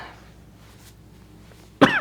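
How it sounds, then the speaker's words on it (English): A single sharp cough bursts out near the end after quiet room tone, close and fairly loud. "so I can go cough, cough, cough"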